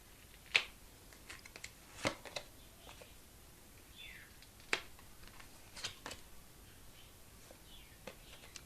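Tarot cards are shuffled and handled quietly up close, with scattered soft riffles, flicks and card slaps at irregular intervals.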